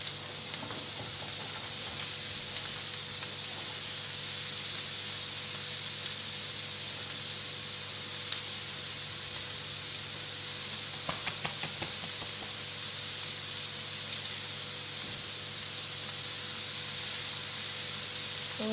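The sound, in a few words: cauliflower rice frying in oil with garlic and chili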